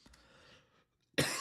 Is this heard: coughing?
yes